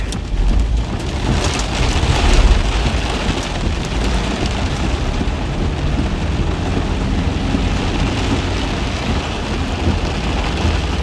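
Heavy rain with rumbling thunder from a Kansas thunderstorm near Manhattan, a loud continuous downpour with a low thunder swell early on, no talking.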